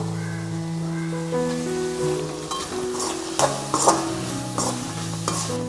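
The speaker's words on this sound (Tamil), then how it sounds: "அவரைக்காய் சேர்த்ததுக்கப்புறம் 1 நிமிஷம் எண்ணெயில் நல்லா வதங்கட்டும்." Broad beans sautéing in oil in a pan, a soft sizzle with a few quick stirring scrapes partway through, heard under steady background music.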